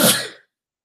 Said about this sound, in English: This is why I don't read much, because it makes me sneeze.